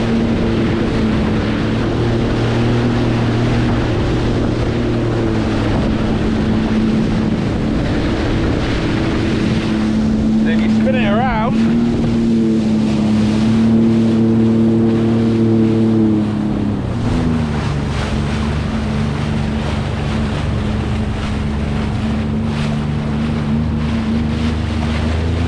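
A small boat pushing slowly through choppy water on Lake Erie, with a steady low engine drone, constant wind buffeting and splashing waves, loud and continuous throughout.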